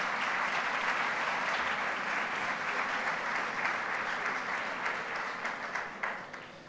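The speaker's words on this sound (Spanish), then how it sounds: "pido tamén un fervoroso aplauso para Pirelli e para o noso amigo Florenci" Thick, even applause fills the hall at the 2019 Galician automobile federation gala, continuing for several seconds before thinning slightly at the end.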